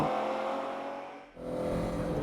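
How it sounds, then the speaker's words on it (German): Lamborghini Countach LP400 supercar driving fast on winding South Tyrol roads, its engine giving a steady loud roar that briefly dips and then surges back, close and without talk. "Unglaublich, wie aggressiv dieses Auto hier im wahrsten Sinne des Wortes im Tiefflug über den Asphalt donnert."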